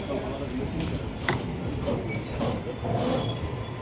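A train rumbles steadily on the rails near Rajkot station, India, heard from inside a sleeper coach, with a constant low roar and faint metallic squeals, while people talk in the background.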